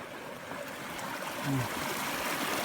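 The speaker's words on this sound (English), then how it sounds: "See here a little stream." A small stream flowing beside a mountain trail near Lake Agnes: soft, continuous trickling and babbling heard close by, with a faint brief vocal sound partway through.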